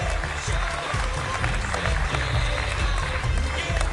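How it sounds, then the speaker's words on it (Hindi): Studio audience on a Pakistani TV game show applauds a young girl, a loud continuous wash of clapping with heavy low rumble, sustained without pause. "इस बच्ची के लिए बहुत सारी तालियां"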